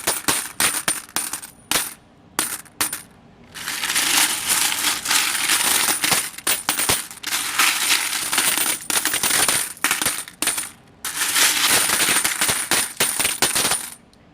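Coins dropping and jingling as laundromat machines are emptied, a near, constant clatter of metal on metal that comes in long cascades broken by shorter clinks and brief pauses.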